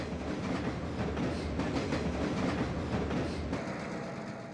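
A westbound freight bound for the Santa Fe's Argentine Yard passes State Line interlocking in Kansas City, seen from the Kansas High Line. Continuous rumbling and clattering of wheels over rails, fairly close, slowly easing toward the end, with no voices.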